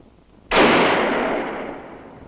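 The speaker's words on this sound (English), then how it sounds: "just look right down the barrel of the gun and" A single loud, close gunshot from a handgun in a dramatic film, with a sharp onset and a long, fading reverberant tail and no talk.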